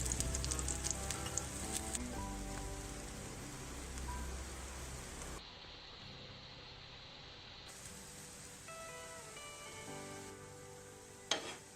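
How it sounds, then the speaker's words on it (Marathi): Jackfruit thalipeeth fries in oil on a pan with a soft, steady sizzle that crackles faintly throughout, without voices, ending in a short sharp clink. "मी थोडंसं तेल घालतो परत, म्हणजे आपल्या दुसऱ्या बाजूने पण थालीपीठ छान शेकलं जाईल."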